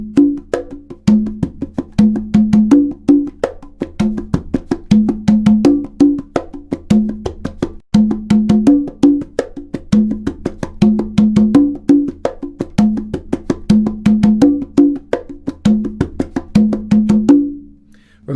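Congas played solo in a funky pattern at a brisk tempo, crisp open and slap strokes in a steady repeating groove, loud and close, with a short pause near the middle and a fade at the end.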